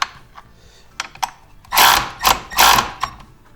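A ratchet wrench tightening a RollerSki binding on a Pilot TS ski, heard as a few light clicks followed by three loud, close bursts of rapid ratcheting, each lasting about a third of a second.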